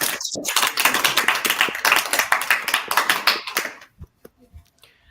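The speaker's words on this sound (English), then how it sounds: "Can you clap for Joseph?" A small audience claps for a young speaker at a live event in Zambia, dense rapid handclaps close by for nearly four seconds, then a few scattered claps trailing into near silence.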